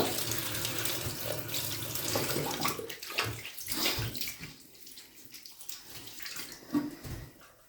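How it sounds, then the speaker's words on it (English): Water is wrung and drips from a shaving brush during a head shave, a continuous splashing, trickling sound that thins into scattered drips and squelches, close and alone. "I like to squeeze all the water out of my brush"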